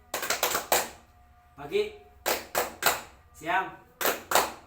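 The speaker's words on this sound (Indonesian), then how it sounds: "kalian tepuk tangan 2 kali" A classroom group claps hands on cue in short bursts: quick double claps and single claps alternate with a teacher calling out times of day, the voice sounding between the rounds of applause.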